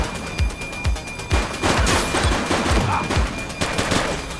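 Rapid bursts of gunfire from a suspect in The Precinct police game, loud overlapping shots and fusillades crackling close by in uneven volleys.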